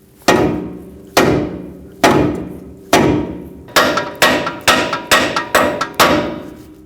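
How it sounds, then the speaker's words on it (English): A dead blow rubber mallet strikes an aluminum steering knuckle on a 2015–2020 Ford F-150 during front strut replacement, landing about ten sharp, ringing blows, spaced at first and then coming faster near the end. "I will be using a dead blow rubber mallet."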